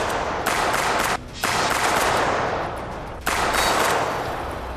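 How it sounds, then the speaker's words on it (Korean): Sustained rapid gunfire from a surprise ambush during a military-style combat mission, loud dense bursts of automatic shots broken by two brief pauses, dominating the scene with no talk. "오, 기습 사격."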